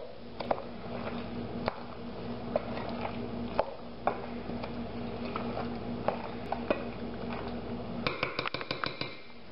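Potato salad with raw onion and homemade mayonnaise being stirred in a bowl: soft repeated scrapes and light clinks, close and steady, ending in a quick burst of rapid clatter.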